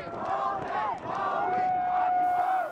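Occupy Wall Street protesters gathered at night in downtown New York City, a sustained crowd roar of shouts, whoops and cheering voices that rises and falls, with one long chant-like cry held over the noise.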